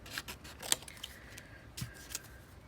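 Quiet, close-up snips of scissors cutting paper for paper rosettes, several crisp cuts in quick irregular succession.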